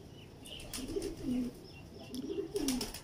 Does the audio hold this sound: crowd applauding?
no